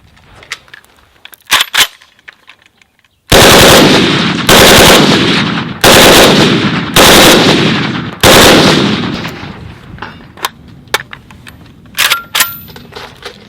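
A short milled-receiver AK rifle chambered in 7.62x39 fires five loud, close bursts of rapid shots in quick succession, outdoors, each burst ringing off between, with scattered single reports before and after.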